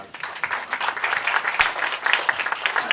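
An audience at a golf club presentation applauds with moderate, steady clapping that holds evenly throughout.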